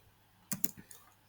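Keys tapped on a computer keyboard while writing an SQL query, a short quiet cluster of four or five clicks in quick succession against a faint background hum.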